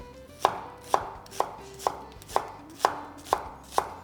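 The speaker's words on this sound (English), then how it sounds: "So I'm just chopping up a yellow onion." A knife chops through a yellow onion on a board in nine evenly spaced, crisp knocks, each a sharp close thud that rings out briefly, with no talking.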